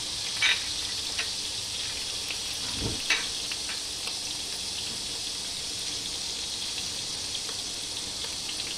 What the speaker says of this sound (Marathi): इकडे मी दुसरा पॅन ठेवलेला आहे त्यामध्ये मी खोबरं घालून घेणार आहे आपण सगळं मसाला थोडासा भाजून घेणार आहोत त्यात धणे घालून